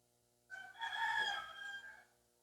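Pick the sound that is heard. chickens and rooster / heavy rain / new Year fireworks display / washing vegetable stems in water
chickens and rooster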